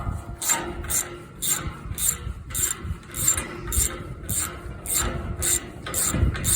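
A ratchet wrench clicks in quick, even bursts while loosening a bolt on a tractor, with repeated loud, close strokes at a steady rhythm and no talk.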